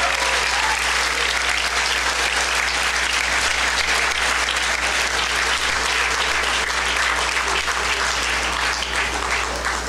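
An audience at a fundraising gala claps in sustained, dense applause that stays loud and even throughout.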